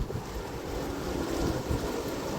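Wind buffets the microphone on a boat trip, a steady low rushing roar with gusty swells and no voices.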